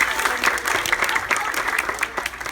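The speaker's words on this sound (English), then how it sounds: "Give her a round of applause." Steady applause from a crowd at a school assembly, dense clapping that stays fairly even throughout with no voices standing out.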